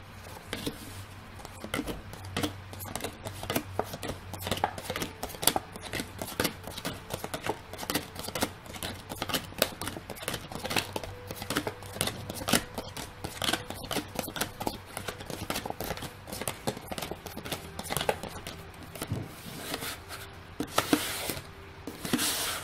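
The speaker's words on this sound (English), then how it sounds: "I'm going to shuffle the cards and we'll jump right in" Tarot cards are shuffled in repeated bursts of quick papery riffling and soft slaps, close by and moderately loud.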